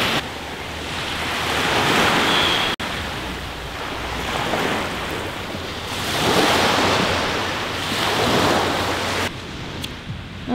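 Sea waves breaking at a beach, broad washing surf that swells and recedes in slow cycles with wind noise on the microphone, no voices.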